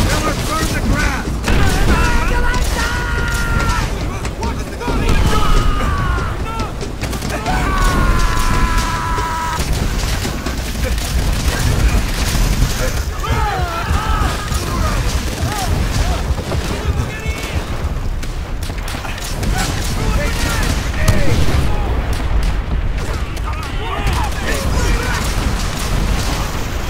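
Machine gun and rifle fire rattle in bursts through a World War II battle in Call of Duty: World at War, with booming blasts and shouting soldiers over the din.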